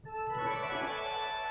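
A single sustained pipe organ tone from a Nazard mutation stop on the choir division, with a bright, reedy, flute-like timbre, held steadily for a moment, clear and fairly quiet.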